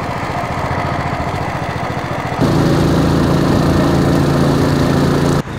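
Small outboard motor mounted on a canoe, idling steadily on a river at low speed; a continuous loud buzzing drone that shifts to a slightly different pitch midway and holds, with no talk.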